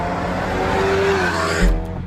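An Alfa Romeo Giulia sweeps past with a steady, hollow, whooshing exhaust drone that holds level for about two seconds, then ends in a couple of brief sharp bursts.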